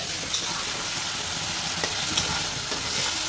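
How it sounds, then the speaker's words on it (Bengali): Fish fries in hot oil in a pan with chilli, giving a continuous close sizzle and crackle with faint stirring noises and no one speaking. "এই হচ্ছে মাছ ভাজা।"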